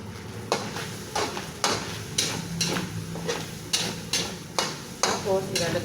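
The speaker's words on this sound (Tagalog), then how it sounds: "Igis ako mabuti para medyo creamy ang mangyari dun sa onion" Onions sautéing in a pan for a home-cooked Filipino dish, with a steady sizzle underneath and a regular series of sharp utensil taps and scrapes against the pan, close and fairly loud.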